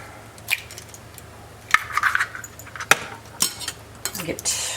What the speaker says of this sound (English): Mix up 2 eggs.